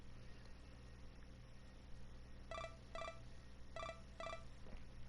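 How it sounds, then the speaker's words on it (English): A phone rings in a video game as four short electronic ring bursts in two pairs, evenly spaced over a quiet, hissy background, fairly faint. "I wake up to the noise of my phone ringing."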